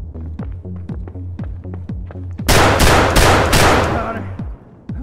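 Rapid shotgun buckshot blasts from an M4 build in Escape from Tarkov crack loudly in a tight burst of several shots, preceded by a rhythmic low throbbing and followed by a fading rumble.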